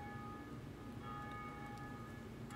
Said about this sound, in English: Ring the first bell